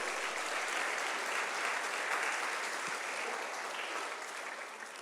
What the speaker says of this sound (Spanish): Dele una ofrenda de palmas al Rey de Reyes